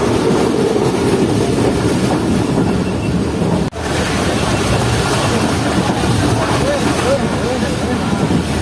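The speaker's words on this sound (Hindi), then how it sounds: "तो ये तकरीबन 100+ की स्पीड में ट्रेन स्किप कर रही है इस वक्त बिन कासिम रेलवे स्टेशन को।" The Khyber Mail train rushes past a station at about 100 km/h, a loud, continuous roar of rail and wheel noise with rattling undertones throughout.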